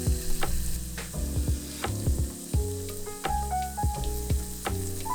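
Onions frying in a pan for beef biryani, a steady close sizzle with repeated scraping and stirring knocks from a utensil against the pan.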